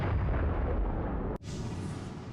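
A single loud explosion skill effect in the video game Aarklash: Legacy booms, a sustained roaring blast that cuts off abruptly and gives way to a brighter hissing tail, with no voices.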